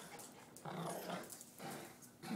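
A Bichon dog growls in short, fairly close bursts separated by brief pauses, a low rumbling snarl with no talking over it.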